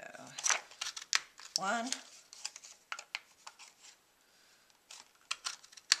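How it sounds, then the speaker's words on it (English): Scissors snip through Whisper White cardstock to cut out a pair of bunny wings, making quiet, close crisp cuts and rustles in short bursts, with someone speaking softly between them. "out of Whisper White, we're going to cut 2 of the wings"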